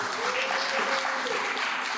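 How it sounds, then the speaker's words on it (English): A crowd at a press event breaks into a round of applause: thick, sustained clapping that stays even and full from start to finish. "Please give her a round of applause"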